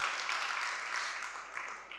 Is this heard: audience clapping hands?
yes